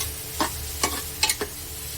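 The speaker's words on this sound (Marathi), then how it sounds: "हे सर्व छान हलवून घ्यायचं आहे" Spoon scraping through rasam powder, cumin powder and asafoetida in a pan for a rasam khichdi, four short quiet stirring strokes spaced about every half second over a faint steady sizzle.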